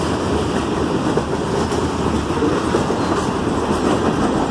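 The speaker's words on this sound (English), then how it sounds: "Got some coal cars at the end of the train right here." A Norfolk Southern freight train with coal hopper cars rolls past nearby in Hickory, giving a loud, continuous rumble with steady clickety-clack from the wheels and no talk.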